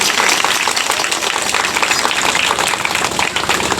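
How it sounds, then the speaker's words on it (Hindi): Loud, dense clapping from a large audience at a family celebration program, steady and sustained throughout without pause. "जोर से ताली खड़का के देखे"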